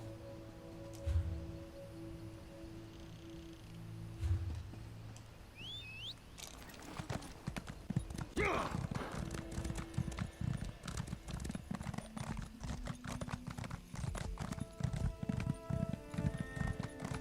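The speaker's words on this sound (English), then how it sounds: "I'm gonna train this horse some more. It seems slow." Steady clip-clop of horse hooves while riding in The Elder Scrolls Online, a continuous even rhythm over game ambience, with a brief neigh or whinny near the start.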